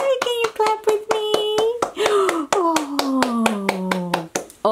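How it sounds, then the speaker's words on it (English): Hands clap in a steady, even rhythm at the end of a children's read-aloud about the planets, close and crisp, with a voice talking or singing along over the beats. "Can you clap with me?"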